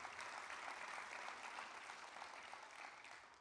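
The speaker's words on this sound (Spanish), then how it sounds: "Un aplauso a nuestro equipo de drama." A church congregation applauds its drama team, with dense, steady clapping heard from a distance that slowly fades.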